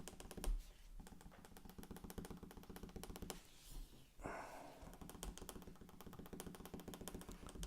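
A pen taps on paper to stipple a drawing, making a dense, even stream of quick, light ticks that carries on steadily with one brief lull.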